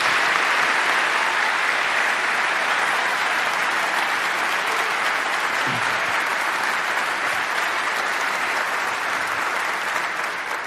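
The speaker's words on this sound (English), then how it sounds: "Let's give them a round of applause." An audience at a military honors ceremony claps steadily and continuously, a dense, even wash of applause with no voices standing out.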